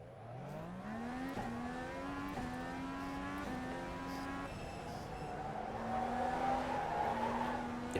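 An iRacing FIA Cross Car slides on asphalt, tires squealing steadily as the engine pitch climbs and shifts through several gears, loud and continuous with no talk.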